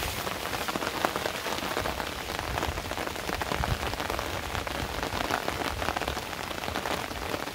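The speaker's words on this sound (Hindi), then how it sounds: "आज सुबह 5 बजे से काफ़ी बारिश हो रही है।" Steady heavy rain falls across Delhi NCR on an early Saturday morning after a storm, a dense, even hiss of drops on surfaces with no talk.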